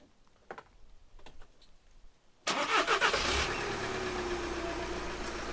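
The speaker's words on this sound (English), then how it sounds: "Now I just have to start the car and check that everything works fine." A car engine is started after a heated side mirror replacement: a few faint clicks come first, then the engine catches with a sudden loud burst and settles into a steady, close idle.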